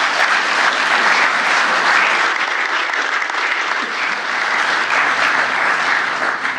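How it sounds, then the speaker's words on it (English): Applause in the Seanad chamber for Senator Wilson's long service, a loud, dense and unbroken wash of clapping from the assembled members that holds steady throughout. "give him a round of applause for his long service"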